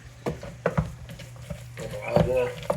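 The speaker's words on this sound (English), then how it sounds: "Give it a little stir." A spoon stirs a sauce in a pan with a few scraping strokes and a soft sizzle underneath, while people talk nearby.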